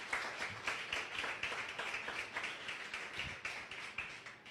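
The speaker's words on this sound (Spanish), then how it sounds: "puedes darle un aplauso al Señor" Church congregation clapping during a Spanish-language sermon service, a faint, steady patter of hands heard from a distance for a few seconds with no talk over it.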